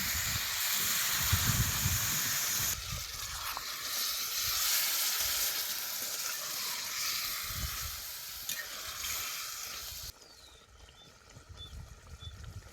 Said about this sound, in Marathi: शेंगा तेलात चांगल्या खालवर करून घ्यायच्या म्हणजे त्याचा तुरटपणा जातो